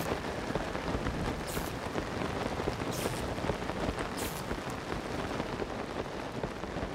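Video game rainstorm with thunder, steady dense rain pattering on surfaces throughout, with a few brief crackling thunder bursts rising out of the downpour, no talk.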